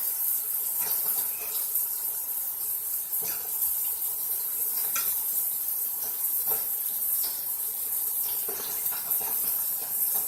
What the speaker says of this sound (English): I'm gonna flip my meat so the other side can catch some color.